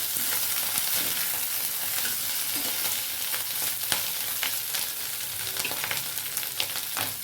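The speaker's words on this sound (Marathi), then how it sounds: "मिरच्या परतल्याच्या नंतर आपल्याला बटाटा टाकायचा त्याच्यामध्ये बटाटा पण मुख्य तेला परतून घ्यायचं" Potatoes tossed in hot oil with chillies for a fasting dish, a steady loud sizzle and crackle with occasional stirring scrapes, no voices.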